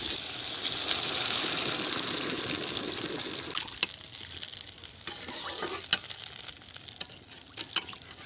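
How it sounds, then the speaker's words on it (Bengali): Water is poured into a pan of fried potatoes and spices, a loud broad rushing sizzle that surges at first, then eases into quieter bubbling with a few sharp clinks near the end. "এখন আমি জল ঢেলে"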